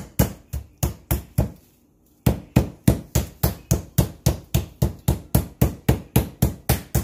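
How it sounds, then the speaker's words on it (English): A meat tenderizer pounds chicken flat through plastic wrap in a steady run of about twenty sharp, close thuds, paused briefly once before the rhythmic strikes resume. "I'm going to get my meat tenderizer. And I'm just going to smash it until it's about ½ inch thick."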